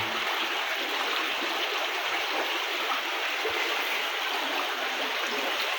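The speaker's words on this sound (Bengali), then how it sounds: "কী কারণে পানিগুলো ব্যাত করে এদিক দিয়ে নামছে" Floodwater rushing steadily through homes in a flood-hit village neighbourhood in Barura, a continuous broadband wash of flowing water, close and loud, with no talk.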